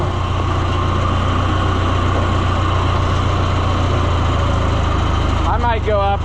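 An off-road vehicle engine idles loud and steady close by, a constant low rumble that runs the whole stretch, with a brief squeaky chirp near the end.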